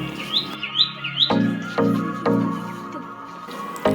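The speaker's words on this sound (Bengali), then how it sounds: "এটা আসলে অরিজিনাল পাখির ডাক ছিল" Rising bird chirps repeat in quick succession near the start, followed by other calls over a steady background hum.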